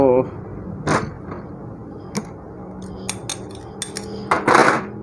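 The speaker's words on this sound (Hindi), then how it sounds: "दोस्तों हम इसमें फिंगर वाली गरारी डालेंगे" Metal gear parts of a 150cc loader rickshaw five-speed gearbox clank and clink during assembly, with a few sharp metallic knocks and a louder rattling scrape near the end, close by over a low background hum.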